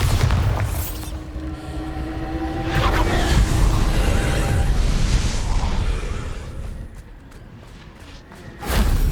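A Bombarda blasting spell explodes in Hogwarts Legacy as a loud, sustained rumbling boom that swells and fades over several seconds, ending with a sharp burst.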